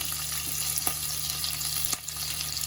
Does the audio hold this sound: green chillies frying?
yes